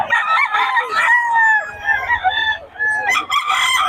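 Young roosters (stags) at a poultry gathering in Bocaue crow loudly and close by in long, drawn-out calls, with clucking between them.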